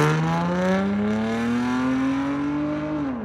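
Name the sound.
car with 3.0 VTEC engine running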